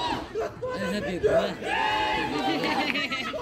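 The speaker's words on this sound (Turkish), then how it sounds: "Terbiyesiz tezahüratlar devam ediyor şu anda." Rowdy crowd of school spectators chanting and yelling rude chants at an inter-class final football match in Doğanköy, Siirt, loud and continuous with overlapping voices and shouts.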